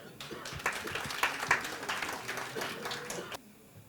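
An event audience at a quiz night breaks into applause, a dense wash of clapping with a few mixed voices that holds steady and then stops abruptly near the end.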